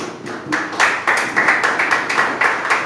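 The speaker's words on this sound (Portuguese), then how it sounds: "Se sente nessa noite e aplauda o nome do Senhor." Congregation clapping in church in a steady, rhythmic beat, a dense crowd of hands applauding in unison, loud and close throughout with no talk.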